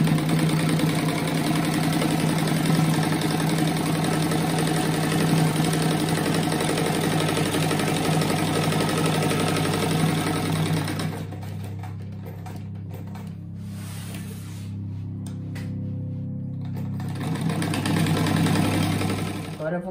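A sewing machine runs continuously, stitching fabric strips for a pencil-shaped fabric rug, with a steady mechanical whir that cuts out partway through and then starts again.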